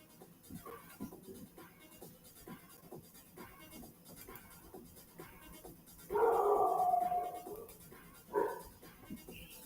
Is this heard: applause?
no